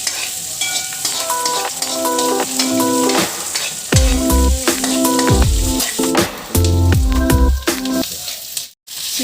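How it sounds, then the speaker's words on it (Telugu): Onions and chillies fry in oil for street-style chicken fried rice, a loud, close sizzle with repeated rhythmic clanks and scrapes of a ladle stirring the pan, and no talking. "అందులో కొంచెం ఆయిల్ వేసుకోవాలి, చిల్లీస్ వేసుకోవాలి, ఆనియన్స్ కూడా వేసుకోవాలి"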